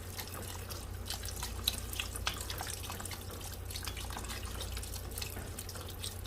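Beef broth pours from a carton into a chili pot, a continuous close liquid splash and trickle steady for several seconds over a low hum, with no speech.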